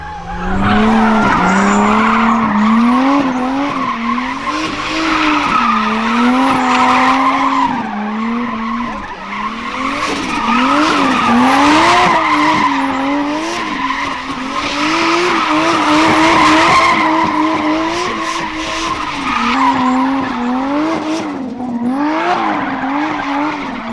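A Nissan Skyline drifts in circles under throttle, its engine note rising and falling with a loud, continuous tire squeal and skid, without a break, and no talking.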